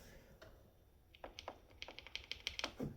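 Typing on a Kisnt 75% budget mechanical keyboard with purple switches: close, crisp key clicks, sparse at first and then a quicker, fairly even run of presses with no talking.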